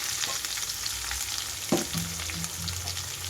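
Bitter gourd pieces fry with garlic in a pan over a low flame, giving a continuous soft hiss with a few stirring clatters and scrapes, close by, and no voices.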